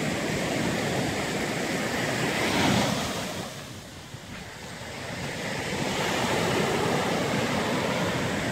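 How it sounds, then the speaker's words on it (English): Strong wind buffets the microphone on a beach strewn with dead sea urchins while surf crashes nearby, a loud continuous roar that swells, dips briefly midway, then builds again. "sorry about the wind."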